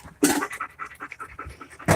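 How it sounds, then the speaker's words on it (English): A dog pants close by in quick, rhythmic breaths while waiting to be fed. The breathing is steady and fairly loud, with no talking. "I'm going to feed the dog right now."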